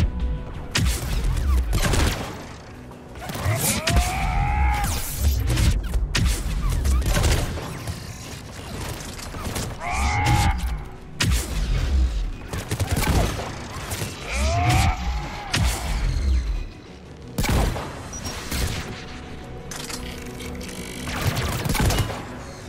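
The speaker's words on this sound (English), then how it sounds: "AA guns ahead of us." Anti-aircraft guns firing in the video game Mass Effect 3, repeated loud booming volleys and mechanical bursts in clusters, with whooshing effects between shots.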